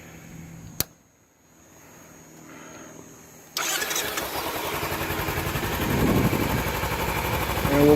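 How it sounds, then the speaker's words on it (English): A Kawasaki Ninja 300 motorcycle with 740 miles cranks over after a sharp click, catches and settles into a loud, steady idle that runs on to the end, rising slightly in revving toward the close. "Let's go ahead and run the bike."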